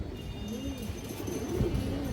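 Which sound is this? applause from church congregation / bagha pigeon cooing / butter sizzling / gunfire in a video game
bagha pigeon cooing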